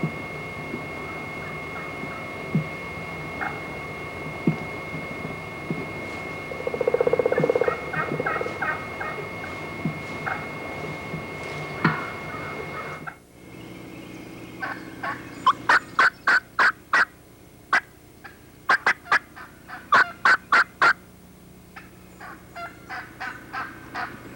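A wild turkey hen yelps and clucks in spring woods, answered by bursts of loud gobbling, with sharp repeated call clusters in the second half and quieter scattered calls and background birds earlier.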